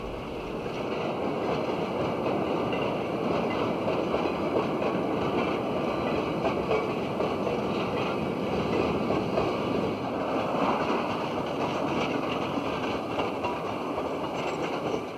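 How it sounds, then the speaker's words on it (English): A train rumbles steadily across the Little Androscoggin River Bridge in winter, 1997, with a continuous roar and faint rhythmic clatter of wheels on track, sustained and fairly close, with no voices. "the train goes over the Little Androscoggin River Bridge"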